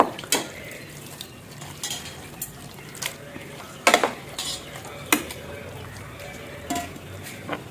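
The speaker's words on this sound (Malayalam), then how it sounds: "നമ്മുടെ ഈ ഒരു കഴുകി വൃത്തിയാക്കി വെച്ചിട്ടുള്ള ഈ ബീഫും കൂടി ഇട്ട് കൊടുക്കാം" Beef being stirred in a pressure cooker while cooking into a curry, repeated scraping and clinking of a spoon against the metal pot over a soft background sizzle, with irregular louder knocks.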